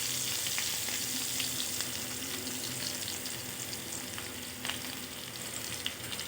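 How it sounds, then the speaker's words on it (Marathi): Coarsely crushed garlic and cumin seeds frying in hot oil for green chilli chivda, giving a steady, dense sizzle with crackling pops throughout, close and alone. "तेल चांगलं गरम झालं की जिरे घालून घ्यायचे आहेत आपल्याला असं जाडसर वाटलेला लसूण घालून घ्यायचा आहे आपल्याला"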